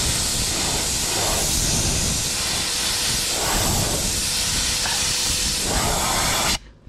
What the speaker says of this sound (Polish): Sprężarka się włączyła, czyli klasyka.